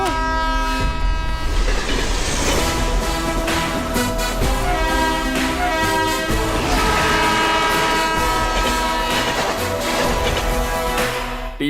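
A train approaches and rushes past, its horn sounding as a loud, sustained tone over steady rumble and clatter throughout.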